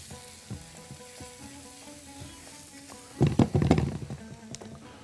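Garlic and lemon hitting a hot pan, a sudden burst of loud crackling sizzle after a quieter stretch of light kitchen clinks and faint hum, close by.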